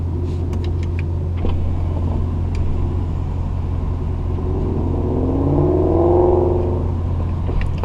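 A Ford Mustang GT with a 5.0 engine and metal aftermarket paddle shifters driving on the road, a steady loud engine rumble that swells into a rising rev near the end, heard from inside the car.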